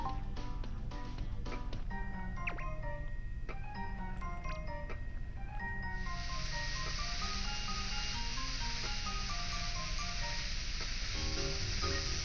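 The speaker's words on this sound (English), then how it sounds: "Egg roll. So let's cook that." Egg roll frying in the Fantasy Life video game, a constant game sizzle with a looping musical tune and chimes layered over it, steady and close throughout.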